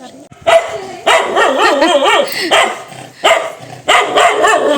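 Several dogs bark loudly and close by in repeated bursts, with yelping, whining tones between the barks.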